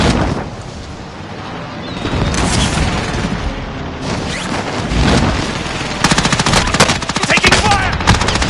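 Rapid bursts of video game gunfire crackle through a firefight, with dense automatic volleys and heavy booms filling most of the stretch and sharp repeated shots toward the end.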